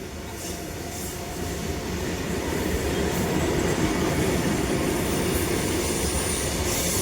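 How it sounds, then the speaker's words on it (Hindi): A long coal-laden freight train hauled by a WDP locomotive rolls steadily past close by, a continuous loud rumble of wagons with faint wheel squeal and clatter throughout. "ये देखो जी हमारा WDP 31571 कोयले से भरी ट्रेन जा रही है।"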